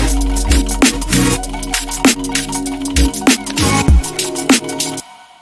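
Remix outro with synth pads switched on, a full dense mix of punchy kicks, snappy percussion and a sustained harmonic bed filling the space, ending abruptly in near silence.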